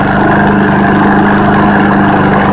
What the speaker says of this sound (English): This is actually first time video of me running this and showing you guys a video on my push mower.